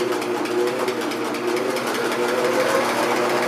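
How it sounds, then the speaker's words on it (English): A sewing machine stitching face mask fabric over pins, with a fast, even mechanical rattle and whir that runs steadily from start to finish, close up. "I am going over the pins with a sewing machine"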